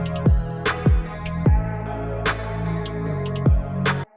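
A one-shot producer sample from Oneshot Bonanza: punchy percussive hits with tonal tails play alone in a loose bouncing pattern, about six bright strikes over a sustained bass-heavy body, loud and close.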